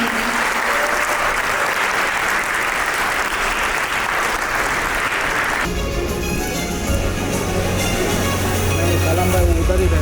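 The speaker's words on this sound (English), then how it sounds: "Can we have a round of applause for Mr." A business-session audience gives a round of applause for a speaker, loud dense clapping for several seconds that then gives way to chatter and room noise.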